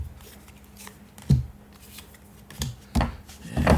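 Cards for The Algorithm board game get shuffled close by in a few crisp riffling bursts over a quiet room, with no voice.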